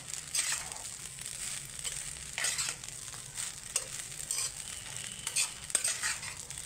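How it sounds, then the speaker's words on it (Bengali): Chira polao, flattened rice cooked with Amul milk, is stirred in a pan, with a soft ongoing sizzle under repeated scraping strokes of a spatula at a relaxed, irregular pace. "এখানে 1 চামচ আমুল দুধ দিয়ে আমি আবার একটু নেড়ে নেব"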